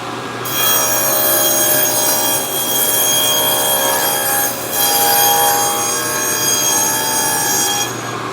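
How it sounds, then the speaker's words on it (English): Power tool cutting a series of grooves into plywood for a cabinet, a loud, steady whining cut running nearly continuously with slight dips in level, close and alone without talk. "So I'm going to cut all of these grooves"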